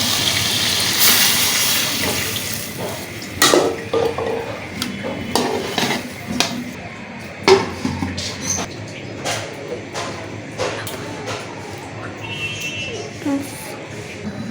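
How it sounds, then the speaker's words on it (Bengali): Water is added to potatoes frying in a cooking pot, with clinks and knocks of utensils against the pot, splashing and scraping, while someone talks over the kitchen sounds. "এবার তাতে একটু পানি দিয়ে সেটা আমি ঢেকে দেব"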